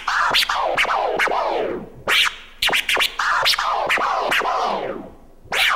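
Fast turntable scratches made by riding the platter, a rapid run of sharp sweeping vinyl scratches with short pauses, loud and close with no voices.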